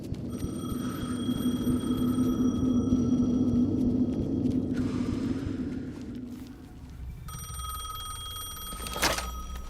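Telephone ringing in the horror video game Alan Wake 2, a loud repeating electronic ring with a low rumbling ambience beneath, pausing midway before ringing again.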